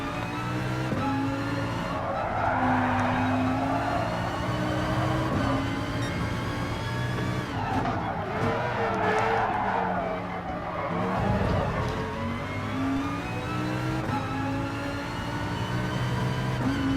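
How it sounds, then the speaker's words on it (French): Mazda race car engines in a racing video game rev and drone steadily as the cars climb through the gears, with pitch sweeps and brief tire squeal over a continuous loud mix. "Et chez Mazda quand même ils ont des beaux moteurs"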